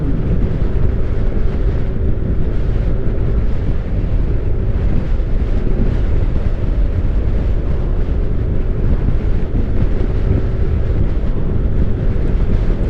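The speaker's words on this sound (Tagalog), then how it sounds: "Lakas ng hangin." Strong wind buffets the microphone in a constant roaring rush, with a low engine-like drone underneath and no pauses for nearly thirteen seconds.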